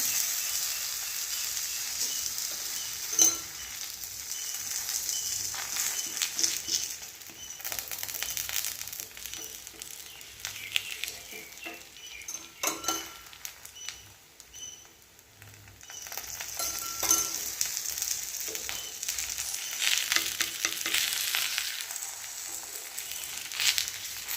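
A drumstick leaf adai fries in oil on a pan, giving a continuous soft sizzle with light crackling that swells and fades, heard close with no talking.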